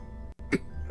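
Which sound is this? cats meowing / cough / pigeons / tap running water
cough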